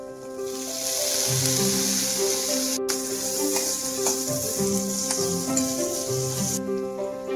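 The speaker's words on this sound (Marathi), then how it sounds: "आता यामध्येच टोमॅटो भाजून घ्यायचं।" Onion and tomatoes roast in oil in a pan over low heat, giving a steady, loud, close sizzle and hiss that keeps going without a break.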